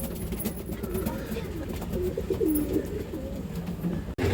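Pigeons coo softly in the background of a busy loft, low warbling calls repeating under a steady hum of ambient noise.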